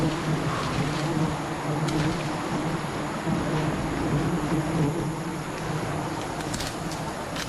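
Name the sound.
swarm of wild honey bees buzzing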